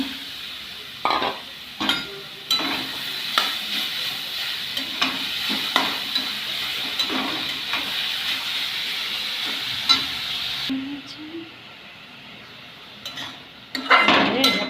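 Carrot sizzling in ghee in a kadai while being stirred, with steady frying hiss and repeated sharp clinks and scrapes of a utensil against the pan, fairly close and with no talk.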